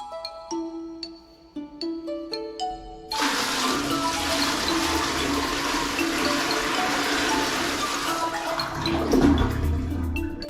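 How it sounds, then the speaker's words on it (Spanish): A toilet in Cuba is flushed by pouring a bucket of water into the bowl. A few soft tinkling notes come first, then a loud, steady rush of water that runs for several seconds before a brief gurgle. "la mayoría de las personas aún descargan el baño con cubos de agua"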